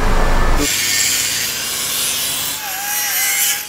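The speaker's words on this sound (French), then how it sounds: "là on est en train de découper la ligne parce que on n'a pas d'autre choix" A cutting tool saws through the exhaust line under a 1976 Chrysler New Yorker with a 7.2 L V8, a close, loud, harsh grinding rasp that starts after a brief thump and runs continuously.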